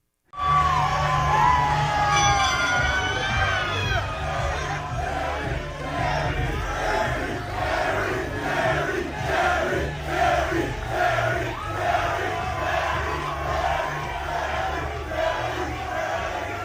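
A large stadium crowd at Beaver Stadium chants a name in rhythmic repeated bursts on a cold night after a game, a loud, sustained roar of massed voices with yells and whoops rising over it.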